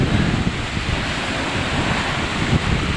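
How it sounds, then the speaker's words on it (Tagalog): Loud surf and gusting wind roar continuously, a broad rumbling wash with wind buffeting the microphone throughout. "malakas ang alon, saka hangin."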